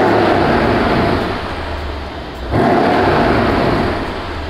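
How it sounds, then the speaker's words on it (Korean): Exhaust note of a Mercedes-Benz CLS63 AMG S 4MATIC (W218), a loud, steady engine rumble that dips briefly, then swells again. "이 차량 배기음 들어볼게요."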